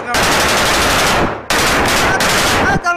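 A PK machine gun fires long sustained bursts in a village battle during the war in Ukraine, loud and close, one burst breaking off briefly before resuming, with faint voices near the end.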